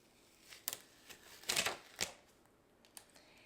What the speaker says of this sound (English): So let's go ahead and just tear this off.